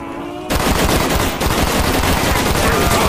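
Automatic gunfire from a Call of Duty Nazi Zombies match bursts in loud and dense after a brief quieter moment, continuing as a sustained rapid rattle of shots with a slight dip midway.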